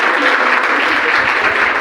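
Audience at a science lab inauguration ceremony at a school, clapping loudly in a dense, sustained burst of applause that sounds close and full throughout.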